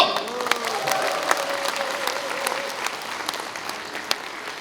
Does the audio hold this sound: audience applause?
yes